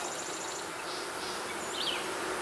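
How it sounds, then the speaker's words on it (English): Honey bees at a beehive, a steady, close buzzing hum that holds evenly throughout, with faint bird chirps in the distance. "These bees are really still. They hardly move at all."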